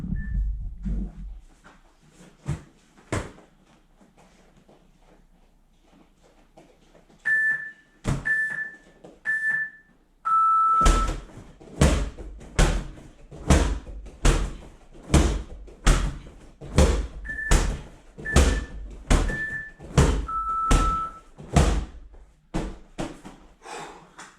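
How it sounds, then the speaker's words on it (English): A medicine ball is slammed and thrown in a fast HIIT workout. After a few scattered thumps, a long run of loud, regular impacts follows about once a second, with short beeps marking the intervals. "First up is a medicine ball slam and throw combination."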